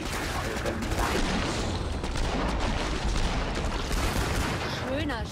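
Dense, rapid bursts of gunfire and booms in a steady barrage from the video game Killing Floor 2 in online co-op, loud and continuous, with a voice faintly underneath.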